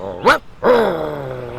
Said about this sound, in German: Laut bellend und knurrend renne ich raus auf den Vorplatz